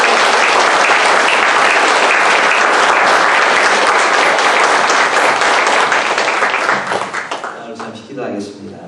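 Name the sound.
congregation applause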